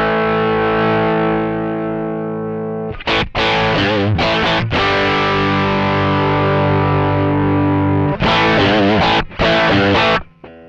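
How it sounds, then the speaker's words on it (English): An electric guitar runs through a Mosky classic tweed-style overdrive pedal, with a long sustained distorted chord ringing out, then choppy bursts of overdriven chords and short pauses between strums, loud and close with no voices. "Now you can get into quite overdriven sounds with this pedal as well."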